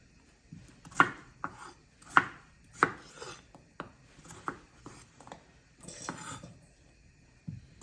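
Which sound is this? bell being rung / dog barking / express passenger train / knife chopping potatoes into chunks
knife chopping potatoes into chunks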